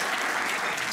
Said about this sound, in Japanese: 皆さん大きな拍手を。